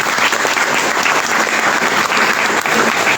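Loud, dense clapping from an audience at an IMC direct selling business meeting, a steady roar of hands welcoming guests with no letup.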